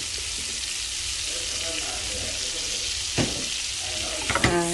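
Melted butter sizzling in a pan as dried fenugreek leaves (kasuri methi) go in for a tadka, a steady hiss throughout with a few stirring clinks and scrapes near the end.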